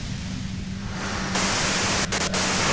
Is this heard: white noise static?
yes